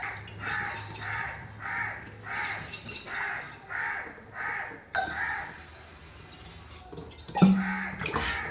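Crows caw in a rapid run of about eight harsh calls, fairly close, followed by quieter clatter and a brief splash of water.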